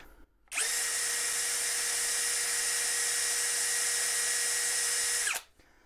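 An Ingco cordless impact drill spins up and runs at a steady high whine for about five seconds during an RPM test, then stops abruptly, loud and close with no talk.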